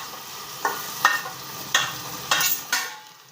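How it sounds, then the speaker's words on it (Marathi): Cauliflower and potato go into a pan of sautéed capsicum for pav bhaji. A soft sizzle runs under about six distinct stirring scrapes spaced roughly half a second apart. "आता याच्यात फ्लावर टाकून घेणार आहे बटाटा पण टाकून घेऊ"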